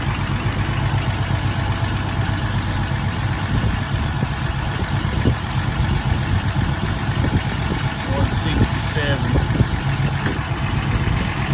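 Car engine idling steadily with a suspected sticking exhaust valve, a continuous low rumble close by that runs the full length without breaks.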